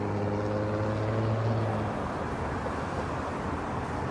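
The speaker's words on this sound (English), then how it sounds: "We will get this WestJet off to Montreal, WestJet 858 on a MAX 8." A WestJet Boeing 737 MAX 8 departs Toronto Pearson at night, a loud, steady jet-engine roar with a whining tone that fades into broadband rumble.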